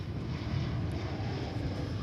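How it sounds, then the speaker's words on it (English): An American Airlines Airbus A321 arriving from Denver at Dallas/Fort Worth Airport gives a steady, broad jet roar, moderately loud and unbroken, with no voices over it. "there is American Airlines Flight 420. Arriving from Denver, Colorado, an Airbus A321"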